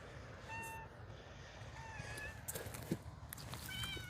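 A cat meows faintly a few times, thin high calls over a low steady rumble of outdoor background noise in a front yard.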